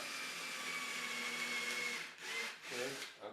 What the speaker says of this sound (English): So I can go ahead and drill right into that.